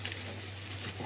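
Lentil vadas sizzling in hot oil, a soft steady crackle and patter, faint and close with no voices.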